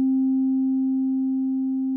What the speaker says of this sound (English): Right now, we've got a clean sine wave if I play a note.